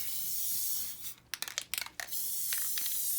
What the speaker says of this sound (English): take the spray adhesive and spray it down on the board